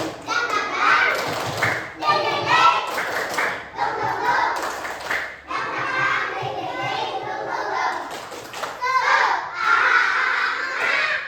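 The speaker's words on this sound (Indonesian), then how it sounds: "Tepuk semangat." A class of children claps and chants the "tepuk semangat" rhythm together, loud bursts of rhythmic hand claps mixed with young voices calling out in unison, with short pauses between phrases.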